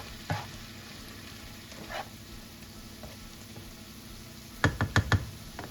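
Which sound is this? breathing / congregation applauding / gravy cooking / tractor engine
gravy cooking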